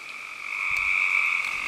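Frogs croak together on a rainy night around midnight in June, a steady, dense chorus of bright trilling calls that holds close and fairly loud throughout, with no voices.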